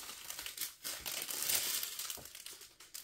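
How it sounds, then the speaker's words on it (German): A plastic bag is pulled open with continuous crinkling and rustling, close and moderately loud, alone without speech, with a few sharper crackles along the way. "Da ging die Tüte etwas leichter auf."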